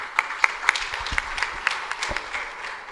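A crowd at a Hindu festival Indian Arrival Day celebration gives a brief round of applause, a few distinct sharp claps standing out over a steady patter of clapping for about three seconds.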